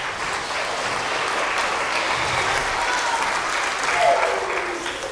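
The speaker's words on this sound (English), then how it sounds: "How about a round of applause for all of our helpers?" An audience at a school assembly claps for the children who helped, a dense, steady round of applause from a crowd that swells slightly near the end.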